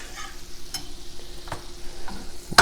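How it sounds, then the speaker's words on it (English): A spoon stirs garlic sizzling in a pan while lingcod is pan seared, with a constant close frying hiss broken by a few scraping strokes. "We're gonna stir this in a bit. Make sure that garlic doesn't stick to the bottom."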